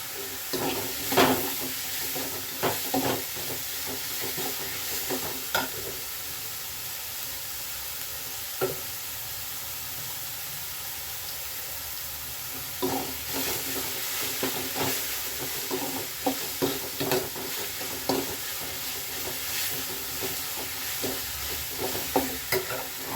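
Fennel seeds hit hot oil in a pan for dhaba-style palak paneer, giving a soft, steady sizzle broken by a string of scraping stirs and clinks, with no talking.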